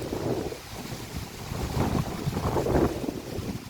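Strong gusting wind buffets the microphone outdoors in Ufa, a loud, uneven roar that swells and dips throughout with no talk over it.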